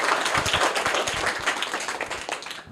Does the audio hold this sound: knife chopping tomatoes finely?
no